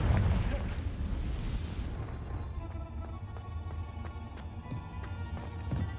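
A Confringo fire spell blasting in Hogwarts Legacy, a loud rumbling explosion that swells at the start and then decays into a long, crackling tail of debris.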